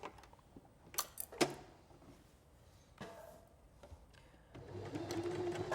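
A sewing machine stitches fabric strips, quiet and close, starting with a few scattered clicks and thumps before settling into a steady whirring run near the end.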